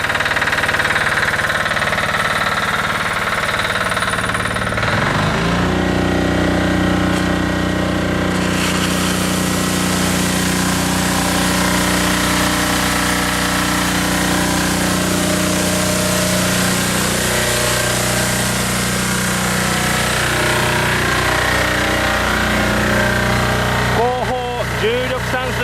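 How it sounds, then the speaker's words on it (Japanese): Sub-engine on a Hino Dutro 4-ton water sprinkler truck built by Kyokuto Kaihatsu starts after a few seconds and runs loud and steady, a constant droning hum with a spray hiss joining partway, under occasional talk. "サブエンジン式散水車の作動テストです。"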